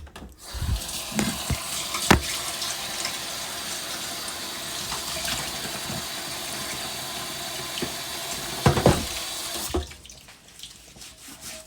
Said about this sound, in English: I have to wash my dish.